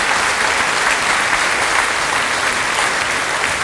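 Steady, dense applause from a large audience at a televised folk music show in Bruck an der Mur, 2005, continuous clapping throughout without a break.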